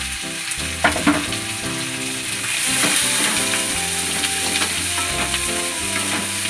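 Shallots frying in ghee for prawn thokku, a steady bright sizzle with stirring clatter and a few utensil taps, close and moderately loud, with a tonal hum running underneath and no talking.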